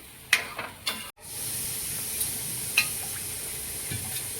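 A few quick scraping stirs of buttermilk and flour batter in a pot at the start, then a brief break and a steady, soft hiss with an occasional faint clink.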